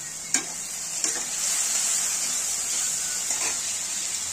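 Onion and spice masala sautéing in a pan for a katla fish curry, giving a steady, close sizzle broken by a few sharp stirring clicks and scrapes, with no talking.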